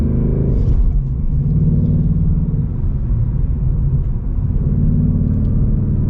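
A 2025 Ford Mustang GT with a V8 and manual gearbox pulls under steady throttle, its deep engine rumble droning close and loud throughout, with the pitch edging up and down slightly.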